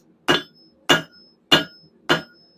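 A hammer strikes hot steel four times at an even, unhurried pace while forging a taper on a fire poker, each blow a sharp metallic ring that decays quickly, close and clear with no talk.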